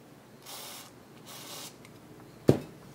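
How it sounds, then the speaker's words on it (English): Two short hissing bursts of gun scrubber spray hit a Taurus Judge barrel, followed by a sharp metallic click; the bursts are close and moderately loud in an otherwise quiet room. "I'm going to spray it down with some gun scrubber"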